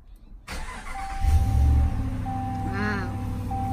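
A 2019 RAM Laramie pickup engine cranks and fires up after a brief quiet moment, with a deep rumble surging loudly and then settling into a steady idle alongside electronic chime tones from the cabin.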